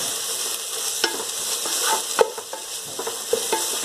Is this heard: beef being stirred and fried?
yes